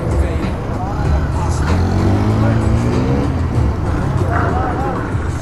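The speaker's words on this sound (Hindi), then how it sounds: "यहाँ पे ड्रैग रेस जो है चल रहा है" Drag race cars at a Sunday event in Chhattisgarh, a continuous roar of engines with rising and falling revs, with someone talking loudly over the din.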